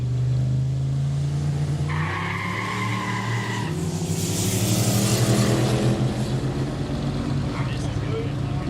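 Engines of an R35 drag car and its rival roar loud and close at a no-prep street drag event, a steady low growl jumping to a higher pitch near two seconds, then a broad surging blast with tire noise as they launch.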